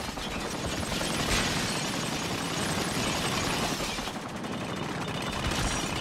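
Dense, continuous gunfire and explosions fill a battle scene in the video game Spec Ops: The Line, a loud, unbroken barrage with no pauses and no voices.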